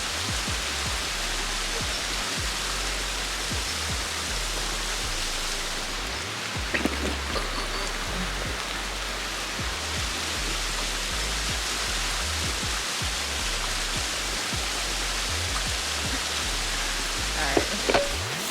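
A small waterfall inside a cave gives a steady broadband rush of splashing water, even and continuous throughout, fairly close, with a couple of faint knocks near the end.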